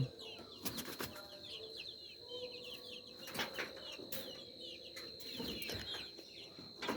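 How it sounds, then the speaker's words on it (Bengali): Chickens clucking and flapping their wings outdoors in the early morning, bursts of wingbeats and scattered clucks with small birds chirping in the background. "ওই দেখেন আমাদের মুরগিরা কী করছে"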